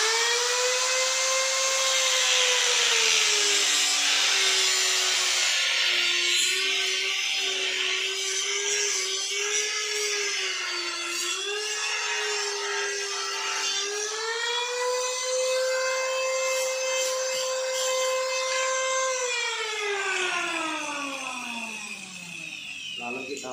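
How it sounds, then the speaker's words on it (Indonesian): An angle grinder cutting trim molding during an interior installation, a loud steady whine that wavers in pitch under load and drops away as the cut finishes, close to the listener. "Kalau saya pemotongan dengan gerinda ya guys,"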